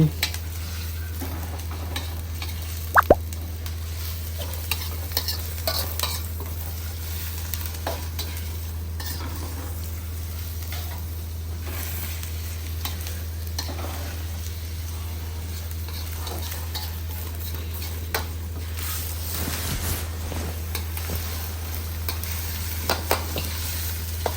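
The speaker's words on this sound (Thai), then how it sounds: "จากนั้นเราก็ใส่เนื้อหมูที่เราหั่นเป็นชิ้นลงไป ผัดเลยนะคะทุกคน" Pieces of pork stir-fried with curry paste in a hot iron wok, a soft continuous sizzle under a steady low hum, broken by occasional scrapes and clinks of the spatula against the pan, with no voices.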